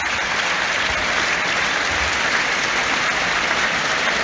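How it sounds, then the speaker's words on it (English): A football stadium crowd at a Premier League match between Nottingham Forest and Chelsea cheers and claps as a substitute comes on, producing a dense, even roar of applause that stays steady throughout. "And here he is, little cheer for him, the number 8."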